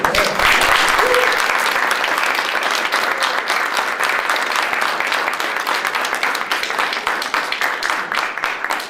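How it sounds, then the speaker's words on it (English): An audience at a comic convention panel on LGBT gaming communities breaks into steady, dense applause, close and loud, with a brief voice at the start before the clapping carries on alone. "Let's give them a round of applause."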